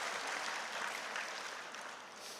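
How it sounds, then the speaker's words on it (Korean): Congregation applauding during a Sunday worship service in a church, steady dense clapping throughout, fairly quiet and even with no voices standing out. "하나님께 영광의 박수를 드립니다"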